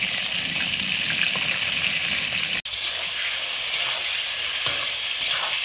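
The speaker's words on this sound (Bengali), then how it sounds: "পটলগুলো আগে ভাজছি।" Pointed gourd frying in hot oil in a wok, a continuous close-up sizzle with crackling, broken once by a sharp brief click.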